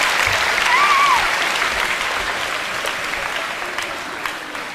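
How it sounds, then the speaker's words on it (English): Loud, sustained applause from a crowd, a dense patter of clapping that slowly eases off. "Give him a round of applause, guys."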